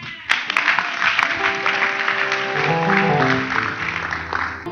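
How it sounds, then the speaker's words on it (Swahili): A church congregation claps for Jesus in sustained, dense applause that carries on throughout, mixed with steady musical tones from instruments. "pigia yesu makofi"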